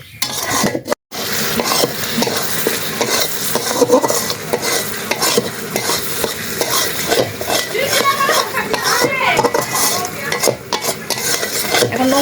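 Goat meat curry with tomato sizzling and frying in a pot over a clay stove, with loud continuous stirring and scraping of utensils against the pan.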